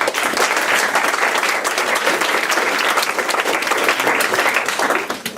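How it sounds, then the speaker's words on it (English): An audience at a campus free speech debate gives the speakers a loud, sustained round of applause, thick and steady until it starts to fade right at the end. "can we have a round of applause for our speakers?"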